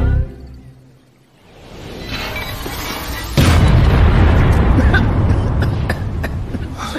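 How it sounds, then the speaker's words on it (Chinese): An alchemy pill furnace blows up in an animated series, a sudden heavy boom that cuts in partway through and is followed by a loud, sustained rumbling burst. "咋又炸炉了？"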